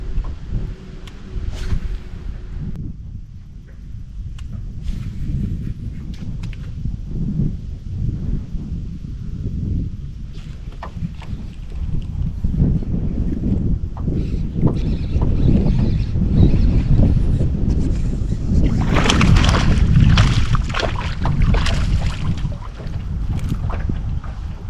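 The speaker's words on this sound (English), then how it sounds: "the wind is blowing me all over the place" Wind buffets a bass-fishing boat out on the water at night: a steady, gusty roar of wind against the microphone with low rumbling and occasional knocks and splashes, growing louder and harsher toward the later part.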